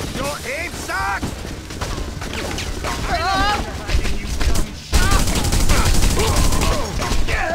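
Rapid gunfire bursts and machine-gun fusillades from The Punisher video game, loud and sustained, mixed with shouting game voices and dense action effects throughout.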